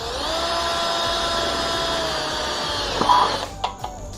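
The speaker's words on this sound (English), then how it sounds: "and drill that hole." A power drill bores a pilot hole for a gravity latch bracket: a sustained high whine that shifts slightly as it bites, then stops with a few short clicks and knocks.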